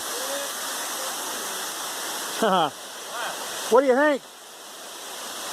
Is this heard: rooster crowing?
no